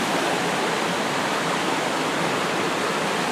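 River water flowing through a forest in El Salvador, a steady, dense rushing hiss without pauses, close and moderately loud, with no voices.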